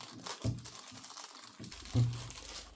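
Packaging of a DaYan Megaminx Pro ballcore puzzle is opened: quiet, close crinkling and rustling of plastic and box material in a few short bursts, with a louder crunch near the end and no talking.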